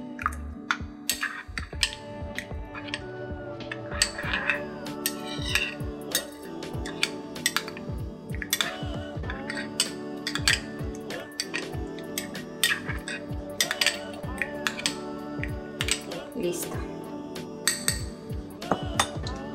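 Spoon clinking against a bowl while lobster tail seasoning with rosemary is stirred, a long run of irregular close metallic taps and scrapes.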